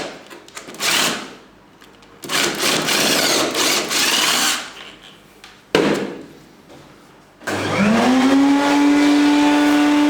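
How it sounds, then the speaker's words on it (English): A power drill with a 10mm bit whirs in several loud bursts separated by short pauses, the last long burst settling into a steady high-pitched whine. "get your 10mm bit, and drill out half an inch or so"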